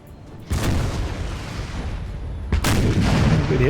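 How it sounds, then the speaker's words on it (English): Three 4-pounder cannons fire in the Napoleon Total War video game during an Ottoman siege, loud booming blasts in a sustained battle roar, with a fresh heavy report cutting in partway through. "He's got here 3 4-pounder cannons there."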